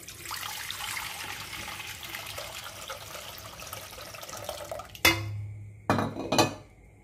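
Water streams and splashes into a metal pot for several seconds while preparing fish egg fry, followed by a couple of sharp clanks of the pot being set down.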